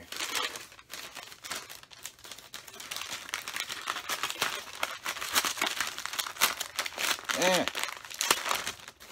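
Crinkling and tearing of tape and packaging as a taped-up comic book mailer is pulled open, a close run of crackly rustles with someone speaking in between.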